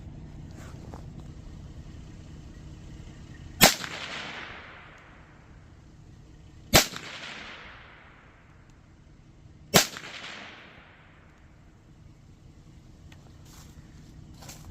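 Three .22 WMR Winchester V-Max rounds are fired through a chronograph outdoors, each a sharp, loud crack spaced about three seconds apart and followed by a short decaying echo.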